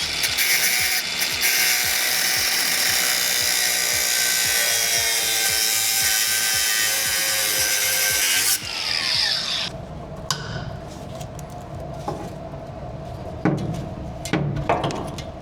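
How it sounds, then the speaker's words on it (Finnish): An angle grinder cuts through a rusty bolt on the frame of a Dodge Ram truck, a loud, steady, rough whine that runs for about eight seconds, then stops, leaving scattered clanks and rattles. "On niin ruosteinen tuo pultti tuolla, että otetaan se sitä suosiolla rälläkällä pois."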